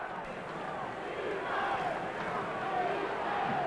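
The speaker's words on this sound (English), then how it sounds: "They're simply chanting "Coo," like they used to do Moose for old Moose Scour and the Yankees." Basketball arena crowd at a 1980 NBA Finals game between the Sixers and Lakers, a broad roar of many voices sustaining long drawn-out chants of "Coo" for Cooper, with a commentator talking over it.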